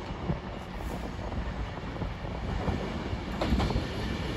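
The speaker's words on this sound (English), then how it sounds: "the delayed 1604 Advance West Coast service from Edinburgh to London Euston, going via Birmingham New Street" Avanti West Coast Class 390 train from Edinburgh to London Euston passing through Crewe station, a continuous rolling rumble of wheels on rails with faint clicks and a high whine, steady and close.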